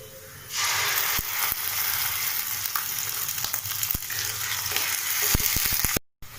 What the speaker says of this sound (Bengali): পেঁয়াজের সাথে এই পেস্টটাকে 3 মিনিট ফ্রাই করে নিতে হবে।